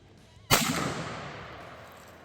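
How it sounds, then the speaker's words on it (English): A single sharp rifle shot from a 6.5x52mm Carcano, fired while chronographing ammunition, cracks loud and close at about half a second, then rolls into a long fading echo with no talk. "we did manage to do a few rounds of chronograph shooting"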